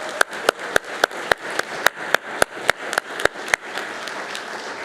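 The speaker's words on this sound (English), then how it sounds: "let's give them all a round of applause" Award recipients at a leaders' awards celebration get applause: sharp, evenly spaced claps ring out close by in a quick steady rhythm over a softer bed of crowd clapping, then fade into the general noise near the end.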